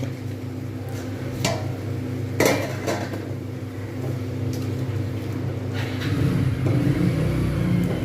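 A lid is set over a pan of potol dolma (stuffed pointed gourd) on the stove, giving a few short metallic clanks against steady kitchen hum and a low background rumble.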